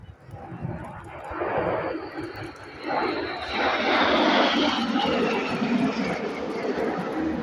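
Red Arrows display jets roar over the Duxford airshow in a loud, dense, rushing wash that builds and stays strong as the formation passes, with a commentator's voice faintly beneath.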